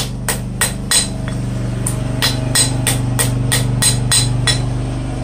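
Hammer forging metal on an anvil outdoors for a sculpture, a steady run of about a dozen bright ringing strikes in quick rhythm, close and loud over the low drone of a lawn mower nearby.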